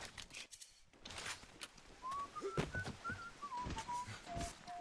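Someone whistles a thin, wandering melody in BioShock, faint and slightly distant, over sparse clicks and thuds of game ambience.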